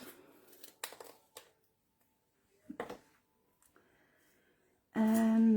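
Scissors snipping through a paper banner in several short, quiet cuts separated by pauses, followed by a brief burst of louder rustling and a tone at the end.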